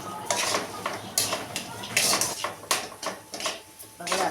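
Green chilli fries with potatoes and lentils in a pan over low heat, with a soft steady sizzle beneath repeated scraping and clinking of a spatula stirring against the metal pan, close up.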